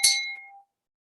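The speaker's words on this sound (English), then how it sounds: "Would you hit the notification bell so that you can receive" A single bright bell ding rings out cleanly and loudly, then decays over about half a second into silence, with no voices around it.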